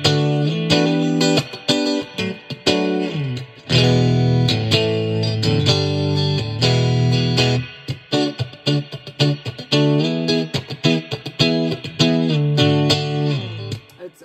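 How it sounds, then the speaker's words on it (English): Clean electric guitar through a Fender Frontman 25R amp plays a lively riff with ringing notes and washy spring-style reverb tails, bright and twangy in a surf style, no voices. "It's a great clean tone. It's got a beast reverb, got a surf rock kind of vibes."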